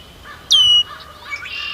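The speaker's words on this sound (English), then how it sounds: "Red-winged blackbirds, small body," Red-winged blackbird calling at a marsh edge among cattails: one loud, sharp whistled note followed by a fainter buzzy trill, with other soft bird calls in the background.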